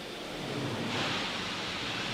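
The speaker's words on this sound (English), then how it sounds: "you could even hear some of those gases being vented over just shortly" Venting gases hiss from a Falcon 9 rocket on Launch Complex 39A at Kennedy Space Center, a steady, loud, broad rushing noise that swells slightly midway and never breaks, with no voices.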